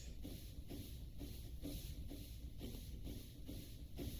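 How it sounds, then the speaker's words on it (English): A plane built in the Minecraft Create Aeronautics mod gives off a steady engine drone with a rhythmic chugging pulse, repeating about twice a second at an even level with no voices. "That just constant engine noise."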